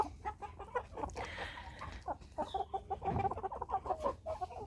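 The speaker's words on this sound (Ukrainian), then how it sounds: "Курочки вже начебто так кокають" Faverolles hens cluck repeatedly in short, uneven bursts, several birds close by with some farmyard background noise.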